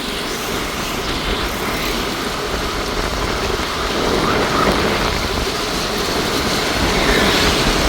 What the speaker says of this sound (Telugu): రాత్రి నుంచి వర్షం ఆపకుండా నాన్ స్టాప్గా పడతానే ఉందండి చూడండి ఎలా ఉందో విజయవాడ